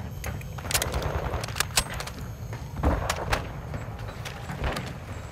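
Call of Duty: Modern Warfare II gunfire crackles in short, uneven bursts of sharp shots over a low background rumble, with moderately loud reports scattered across a few seconds.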